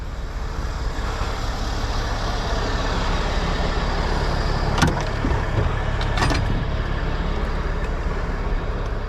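Heavy tractor-trailer truck engine idling steadily with a low rumbling drone, near and continuous, a couple of brief clanks or air hisses partway through.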